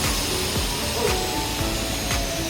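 An automatic aluminum profile frame cutting machine runs with a loud, steady mechanical roar and whine, continuous throughout with faint rhythmic knocks beneath.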